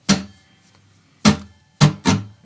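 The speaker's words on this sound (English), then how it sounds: "Okay, here it is. I'm gonna do it without any chords going on down this end." Four strummed guitar chords in a slow rock strum, played alone with no chord notes fretted: one stroke, a long gap, then three closer strokes, each bright and ringing near the mic.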